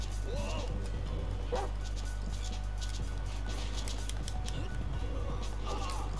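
A dog in the video game GTA 5 yips and barks among loud game sounds and a constant low hum, while someone talks excitedly over it.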